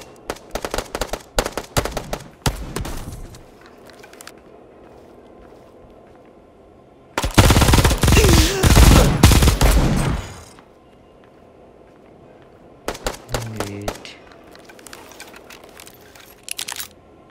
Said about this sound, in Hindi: फायरिंग उधर से आ रहा है।